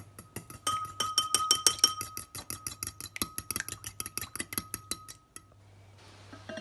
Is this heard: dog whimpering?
no